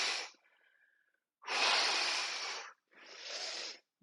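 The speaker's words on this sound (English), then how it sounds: "Exhale." Forceful breaths during a rowing movement in a summer strength training workout: a short puff, a pause, then two long, loud, close exhales separated by a brief gap, with no talking.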